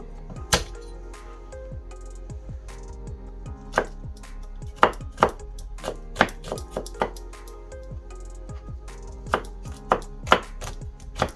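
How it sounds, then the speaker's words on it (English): A knife chops six garlic cloves into small pieces on a board, about twenty sharp irregular thuds in quick bursts and pauses, close and clear with no talking. "I've got 6 garlic cloves here. I'm going to chop them up into small pieces."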